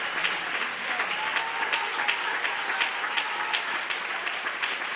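A church congregation claps together during a sermon, dense, even applause filling the room for the whole stretch with no one speaking over it.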